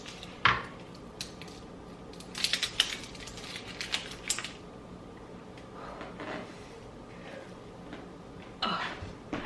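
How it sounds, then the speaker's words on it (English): A knife quartering an onion on a board in a home kitchen, a few sharp close chops and crunchy cuts scattered among light clatter, with faint talk in the background. "I'm going to take an onion and quarter it"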